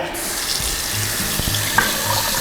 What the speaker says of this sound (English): as you can hear the water flowing.